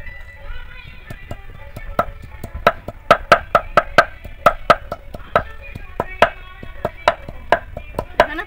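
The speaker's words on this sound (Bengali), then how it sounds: "আমি আদাগুলো বেটে নেব। আজকে মশলার মধ্যে বাটার মধ্যে আদাটাই বাটতে হবে।" Ginger being crushed for spice paste gives a run of sharp, hard knocks at an uneven rhythm, loud and close, with a faint murmur behind.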